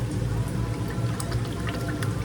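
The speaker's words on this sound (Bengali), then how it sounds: "এবার আমি দিয়ে দেবো জল।" Water pours steadily into a container in a home kitchen during evening iftar preparation, a continuous close splashing stream with no voices.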